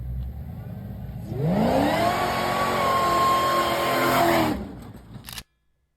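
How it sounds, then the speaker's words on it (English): A project car does a burnout on a brick bridge, the engine climbing to a loud sustained high-revving roar with a whining tire-spin tone for about three seconds, then dropping off abruptly into quieter idle and silence. "Burnouts on a brick bridge"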